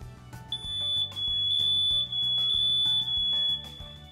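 A ceiling smoke detector under test sounds its alarm: a loud, piercing electronic tone repeating in a steady pulsing pattern of roughly one-second bursts, heard close up with no voices.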